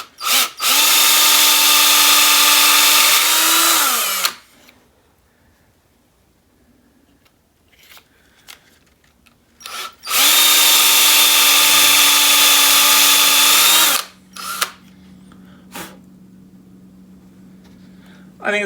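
A drill press bores into a wooden slimline pen blank in two long, loud whining runs that spin down at the end, with quieter handling noises, clicks and brief talk in the gap between them.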